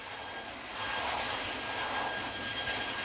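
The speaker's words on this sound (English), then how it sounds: "The jet fire simulates a hydrocarbon-fueled fire on an offshore oil rig or a missile strike" A jet fire test burner roars steadily, simulating a hydrocarbon-fueled fire of the kind on an offshore oil rig, a loud continuous broadband rush with no voices.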